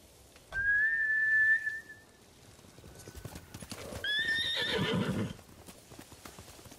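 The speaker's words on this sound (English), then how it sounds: "Bastards scared off the horses." In Ghost of Tsushima, a long high whistle rings out, then samurai horses neigh loudly and their hooves clatter away in a galloping rush, fairly close.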